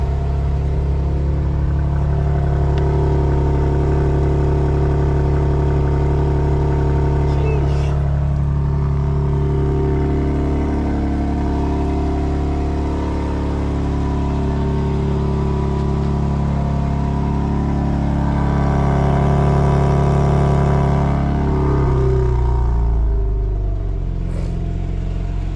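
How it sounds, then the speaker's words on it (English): BMW M2 cold start with exhaust valves closed: a loud, steady idle drones for most of the time, swelling briefly with a rev near the end before dropping away. "Cold start with the valves closed."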